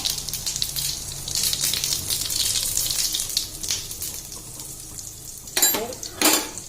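Cumin seeds frying in hot oil for masoor dal, a steady soft sizzle with faint stirring and a couple of louder clinks of a utensil against the pan near the end.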